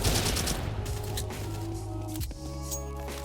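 Suppressed M4A1-S rifle fire in the BloxStrike shooter game, a sustained burst of muffled shots over a steady game soundscape, followed by a short break and further tonal game effects.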